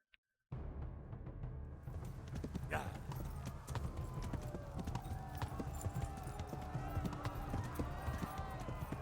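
A horse gallops across open ground in the video game Kingdom Come with a steady, rapid clip-clop of hooves, close and continuous, after a brief silent start.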